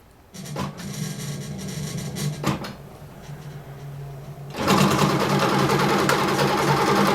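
A King Quilter II Elite longarm quilting machine starts up and runs its stitching, with a low mechanical hum and rapid rhythmic needle chatter. The machine grows noticeably louder and busier in the last few seconds.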